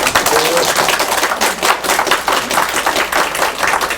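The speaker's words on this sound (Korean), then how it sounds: "훌륭한 청중을 위해서 박수 한번" An audience at a party office members' meeting claps in sustained, dense applause, loud and close, continuing steadily throughout.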